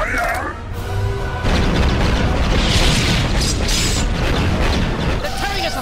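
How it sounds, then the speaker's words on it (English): Heavy cannon blasts from Star Wars: The Clone Wars boom and rumble continuously, with a brief voice heard at the start and again near the end. "All cannons, fire!"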